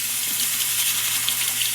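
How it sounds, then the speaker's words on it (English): A kitchen tap runs steadily as rice is rinsed in a colander, a constant bright rush of water with faint splashing and no talk. "So we have to rinse our rice first, and so we're going to put our rice in the colander,"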